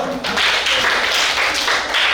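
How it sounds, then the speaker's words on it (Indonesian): A classroom audience of students claps in applause, a busy burst of hand claps that swells and holds, fairly loud and near, with some voices mixed in. "Tepuk tangan dulu."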